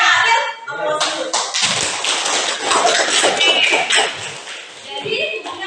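A classroom group claps in a dense, sustained burst of hand applause lasting several seconds, fairly close and loud, with a few voices mixed in underneath.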